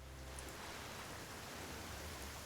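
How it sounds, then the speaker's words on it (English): Steady rain pouring down in the game Genshin Impact, a dense, even hiss of a heavy downpour that holds constant throughout with no voices. "The rain became heavier. Light rain soon growing to a downpour."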